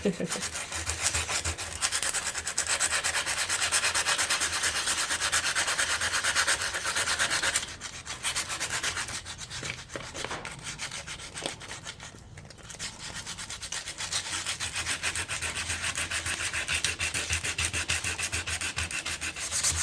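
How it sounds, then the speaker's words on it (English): Steady abrasive rubbing of sandpaper scraping rust from a Honda ATC starter motor, continuous and close, with a brief lighter patch midway before the grinding resumes. "Bet you never thought you'd be sanding down a starter motor today"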